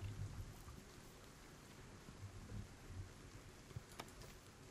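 Rain falls at night in the dinosaur survival game Stomping Land, a quiet, steady patter and hiss with faint low rumbles and a brief sharper tick near the end.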